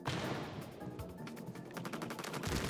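Ink guns in Splatoon 3 fire rapidly at targets, producing a steady stream of loud, splattering shots with rhythmic bursts throughout, no voices over them.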